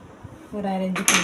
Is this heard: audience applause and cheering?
no